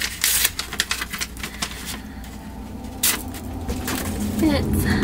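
Crinkling paper and plastic from a swap package being unwrapped, with a box holding lemon heads candy and a small card; dense, close rustling and tearing bursts run throughout while a person talks over them.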